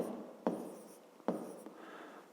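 A pen writes a three-digit number by hand on paper, giving soft, close scratchy strokes in two quick bursts with light taps, with no talking.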